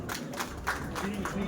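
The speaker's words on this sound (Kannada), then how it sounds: "ಜೋರಾಗಿ ಚಪ್ಪಾಳೆ ಹೊಡಿರಿ." Short burst of audience clapping at a Congress party election meeting for a graduates' constituency in Mulbagal, scattered claps over a crowd with a voice speaking through it.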